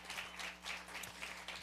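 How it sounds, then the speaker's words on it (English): Faint, steady applause from an audience at a singer-songwriter competition qualifying round in Bristol, with evenly spread clapping that swells slightly in waves and sits far off and alone. "Give Chris a big round of applause."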